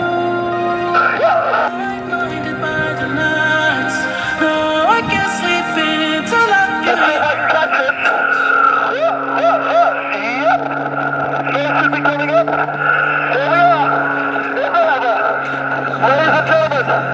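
Extra 330SC aerobatic airplane engine during a flight demo in Southern California, a continuous droning propeller roar with shifting pitch as the aircraft dives and builds speed, loud and sustained throughout.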